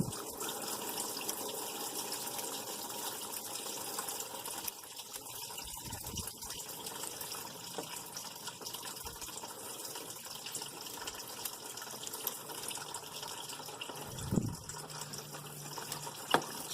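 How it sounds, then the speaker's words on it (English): Water gushes and splashes out of a 2003 Ford Focus 2.0L engine in a continuous steady stream, a broad rushing hiss lasting throughout with occasional small knocks and no speech. "There you can see the water's coming out."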